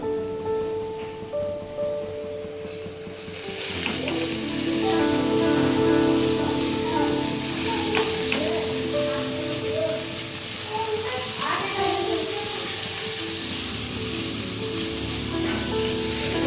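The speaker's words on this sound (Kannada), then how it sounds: "ನಾನು ಇವಾಗ ಮೆತ್ತಿ ಪಲ್ಯನ ಡೈರೆಕ್ಟಾಗಿ ಹಾಕ್ಕೊಳ್ತಾ ಇದ್ದೇನೆ" Methi (fenugreek) greens palya drops into a hot pan and breaks into loud, continuous sizzling and frying that carries on to the end, with a voice talking over it now and then.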